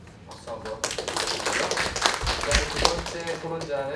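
Audience clapping at an academic conference as a discussant is introduced, dense and steady with a voice talking over it throughout.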